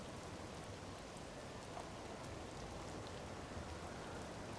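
Steady rain falls in Tears of the Kingdom, a dense even hiss of drops on surfaces, soft and continuous without breaks or voices.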